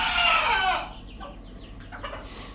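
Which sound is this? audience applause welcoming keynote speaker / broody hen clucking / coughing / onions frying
broody hen clucking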